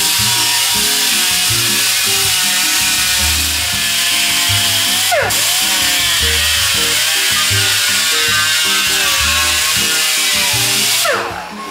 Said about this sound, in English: So I'm gonna go ahead and use my little grinder to do that.